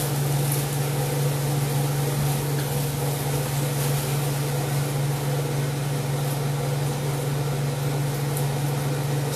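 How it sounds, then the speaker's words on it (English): A microwave oven hums steadily while heating store-bought tortillas, producing a loud, continuous drone with no voices. "Pop them in the microwave, 30 seconds"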